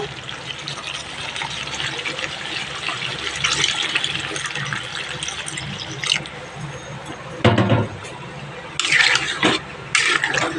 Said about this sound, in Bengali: বন্ধুরা দেখো মাটনটা ভালো করে কষানো হয়ে গেছে এবার আমি জল দিয়ে দেবো